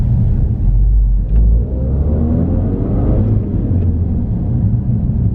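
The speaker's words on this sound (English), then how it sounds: "we can now hear the turbo spooling up very prominently" Ford Focus RS fitted with a Mountune sports cat and exhaust and MSD420 tune, heard from inside under light throttle: a steady, loud low engine drone with a rising tonal whine as the turbo spools.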